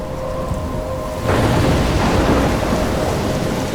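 Thunderstorm with rain in the video game Life is Strange: steady rain hiss that suddenly swells into a loud, broad rumble of thunder and heavier downpour partway through, continuing dense and close with no voices.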